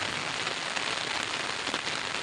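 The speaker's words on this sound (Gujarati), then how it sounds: "પણ વરસાદ ચાલુ થઈ ગયો છે મિત્રો." Rain falls steadily over a farm field where a coriander crop has just sprouted, a dense, even hiss of drops on the ground and leaves that stays close and constant throughout, with no voices.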